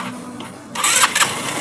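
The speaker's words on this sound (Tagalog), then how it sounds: "Tunugan natin yung starter motor." A motorcycle starter motor cranks the engine with a sudden loud, whirring burst after a quieter lead-in, continuing close up to the end.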